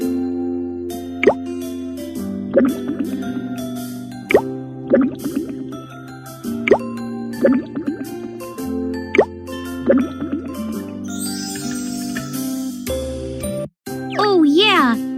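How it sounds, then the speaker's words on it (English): Donut batter poured into a mold in a cartoon cooking game, heard as a series of bright, evenly spaced plopping and bubbly dripping effects with tinkling chimes, ending in a rising sparkle and a swooping flourish. "Now pour them into the mold."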